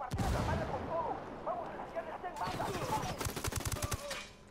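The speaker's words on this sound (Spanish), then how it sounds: "encima es que los cabrones tienen ametralladoras pesadas" Heavy machine guns fire in Ghost Recon Wildlands, loud rapid bursts and sharp cracks that intensify toward the end over game ambience, with voices audible earlier on.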